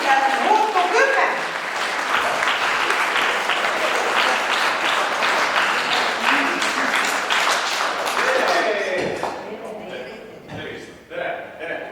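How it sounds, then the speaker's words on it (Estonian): Spectators at a seniors' festival applaud loudly for an improv theatre troupe, the clapping fading as a voice begins speaking near the end. "palun siis teeme ühe suure aplausi improteatrile Muutu"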